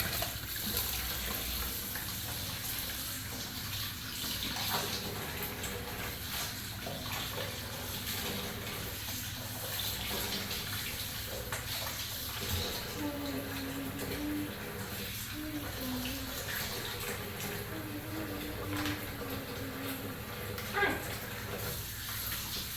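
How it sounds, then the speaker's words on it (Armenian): Running tap water splashes continuously while dishes are washed, a steady mid-level rush with faint clinks and occasional soft bird coos in the background and no speech. "ասում ափսեները ես լվանամ"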